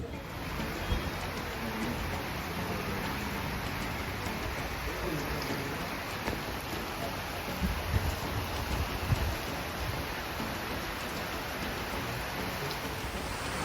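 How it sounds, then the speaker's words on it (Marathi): Heavy rain falls outside, a dense, steady hiss that stays level and unbroken throughout. "तुम्हाला दाखवतो बाहेर पाऊस कसला पडतोय"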